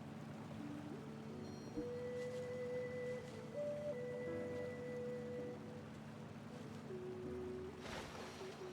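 A waterfall in the video game Genshin Impact gives a soft steady rushing wash, faint and continuous, with quiet tonal game sounds drifting over it.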